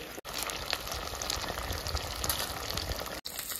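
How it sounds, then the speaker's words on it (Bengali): Rohu fish chops dipped in batter crackle and bubble steadily in hot oil, a dense close sizzle running throughout with brief cuts at the start and end. "বাকি মাছগুলো এইভাবে আমি ঝোলের মধ্যে চুবিয়ে ভেজে নেব।"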